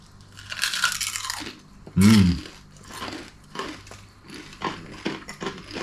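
A loud, sharp crunch of biting into crispy chicken skin chicharon, followed by quieter chewing crunches and rustling, close up.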